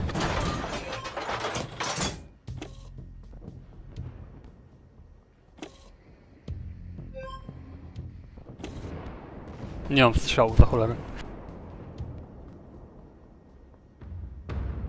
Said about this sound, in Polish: artyleria już ciągle cię ostrzeliwuje